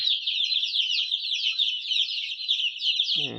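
Free-range native chickens on a farm cluck and chirp in a steady, close stream of bright, rapid calls, with a brief lower sound creeping in at the very end.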